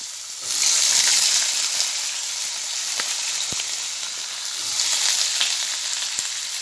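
Tengra fish and potatoes frying together in a pan give a loud, steady sizzle that swells near the start and again later, with a few faint clinks and no talking.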